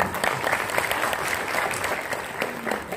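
An audience at a national seminar for village graduates applauds, a moderate, even spread of clapping that runs throughout, softened by room distance, with faint murmuring beneath.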